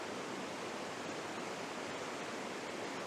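Steady broadband rush of the River Dart flowing through woodland, a continuous close wash of moving water with no breaks and no voices.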